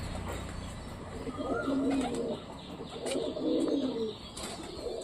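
Pigeons coo in soft, low, rolling calls that come in a few swells, against a quiet hum of background noise with occasional light rustles.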